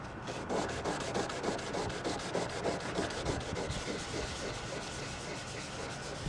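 Steady back-and-forth hand sanding through clear coat on a car panel, a continuous close scratchy rubbing with a fast regular stroke rhythm and no talking.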